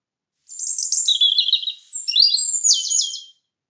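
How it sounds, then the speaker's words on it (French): A small bird chirps in a quick run of bright, high tweets and trills, close and clear, with no other sound around it. "La bonne réponse est la numéro 2. C'est un oiseau."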